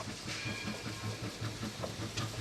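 Ambience at a train station, with rhythmic rolling clatter of railcars and a steady engine drone throughout.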